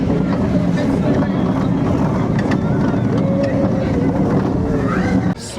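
Ride on the Velociraptor roller coaster at Paultons Park: steady rushing wind roar and rumbling track noise throughout, loud and close, with faint voices mixed in before the noise drops away at the end.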